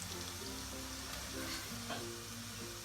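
Onions fry in a pot for Ghanaian jollof rice, a faint steady sizzle and crackle with a low tonal hum underneath.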